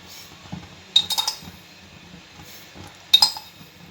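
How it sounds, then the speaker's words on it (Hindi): Spoon clinking against a bowl while milk and sugar are stirred together for French toast batter, a few sharp metallic taps and soft scraping at close range with no talking. "और इसको भी अच्छे से मिक्स कर लेंगे"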